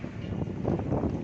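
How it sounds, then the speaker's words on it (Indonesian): Strong wind gusting around Pondok Ungu Permai, a steady broadband roar with buffeting surges that swell in the second half and carry a rough rumble of microphone wind noise, no voices. "Angin besar sekitar Pondok Ungu Permai"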